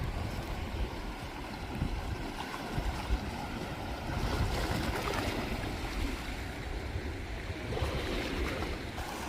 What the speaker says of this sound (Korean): 파도 소리 들리죠?